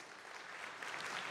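An audience gives a short burst of applause at a mayor's community meeting, clapping steadily and swelling slightly over a moment, moderately distant with no talk.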